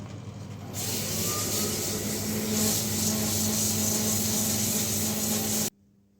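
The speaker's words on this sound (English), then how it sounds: "So that's another 10 minutes or so of sanding, and I've got a nice smooth finish" Steady, continuous scratchy rubbing of fine sandpaper on a wooden fence post being turned into a mushroom, loud and close, with a low hum underneath, stopping abruptly near the end.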